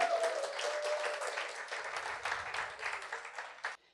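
Congregation applauding in a church service, a dense wash of clapping that holds steady for several seconds and then cuts off abruptly near the end.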